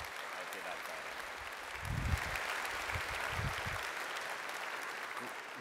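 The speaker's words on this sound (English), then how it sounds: "let's give him a nice round of applause" Audience at a University of Waterloo convocation ceremony applauds the university president, a steady broad wash of clapping that swells slightly partway through and carries on throughout, with faint voices underneath.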